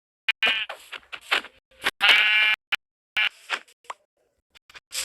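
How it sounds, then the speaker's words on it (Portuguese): Sheep in the Minecraft video game bleat in a run of short, loud, close calls, several in quick succession with brief gaps between them, all heard alone in otherwise quiet game sound. "já tem aqui duas ovelhas e uma vaca"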